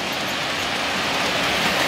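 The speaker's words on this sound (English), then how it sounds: "And here comes a Pullman." A model Pullman passenger train runs past on a layout, giving a steady, continuous rolling rumble throughout with no voices.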